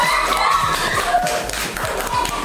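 A classroom of children applauding a winner of a Roman numerals quiz, a dense continuous patter of claps with scattered taps and thumps, close and steady throughout, with faint voices underneath.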